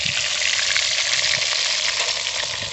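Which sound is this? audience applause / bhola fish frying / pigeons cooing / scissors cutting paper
bhola fish frying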